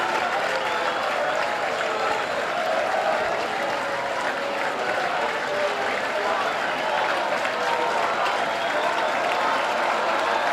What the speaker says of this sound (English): Home crowd getting behind their boys now.